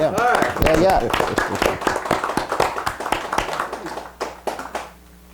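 An audience at a meeting about voter suppression laws claps, a dense patter of many hands that thins out and stops near the end, with voices talking over it.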